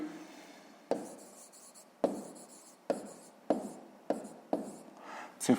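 A pen scratches as digits are handwritten on paper during a sixth-grade math exercise. Six or seven short, sharp strokes come in a steady rhythm, close and distinct, with no talk over them.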